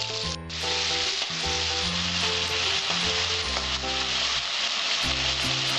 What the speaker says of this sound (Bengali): আমি আঁচটা বাড়িয়ে দিয়ে চিংড়ি মাছটা ভেজে নেব।